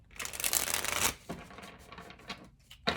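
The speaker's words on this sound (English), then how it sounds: "So this deck that I'm currently shuffling to clarify" A deck of tarot-style cards is riffled and shuffled close by, a long crisp burst followed by several shorter flicks and rustles, with no speech.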